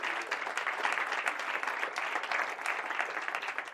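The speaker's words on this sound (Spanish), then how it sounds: "Un aplauso para Jorge." At a conference on addiction recovery, a seated audience breaks into dense, lively applause, many hands clapping at close range in an even, sustained roar with no speech over it.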